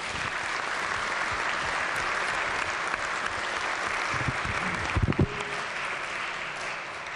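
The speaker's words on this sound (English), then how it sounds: "can the House please give these two gentlemen a round of applause" Members of the West Virginia House of Delegates applaud two gentlemen in the legislative chamber: a dense, steady round of clapping fills the whole stretch at an even level, with a few louder thumps near the end.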